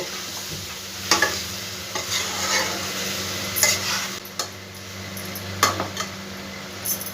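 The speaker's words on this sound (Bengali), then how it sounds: "দিয়ে খুব ভালো করে মশলার সঙ্গে সবজিগুলো আমি একটু মিশিয়ে নেব" Vegetables are stirred with spices in a pan over a low flame, with a gentle sizzle under repeated scraping and knocking of a spoon against the pan, close by and with no talking.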